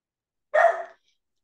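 A single short dog bark, close and clear, surrounded by silence.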